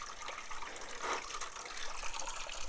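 Car coolant draining from a radiator, a steady faint trickle and splash of liquid into a catch pan, with a slightly fuller gush near the middle.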